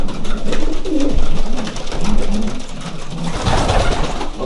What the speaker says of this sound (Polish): Chciałbym tu pokazać kilka takich gołąbków.